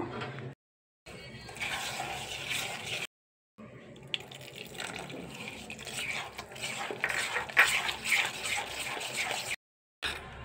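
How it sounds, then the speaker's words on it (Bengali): Water is poured little by little into batter for a rice-flour dish and stirred in a bowl. Soft wet sloshing, spoon scraping and clinks come in uneven bursts, broken by brief silent gaps, with no voices. "দিয়ে দিচ্ছি আমি এখানে জল, অল্প অল্প করে জল দিয়ে মিক্স করব"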